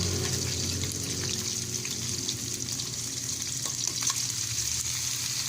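Softened pork sizzles loudly in a pan with fried carrots and potatoes, a steady close frying hiss with light stirring scrapes, no voices.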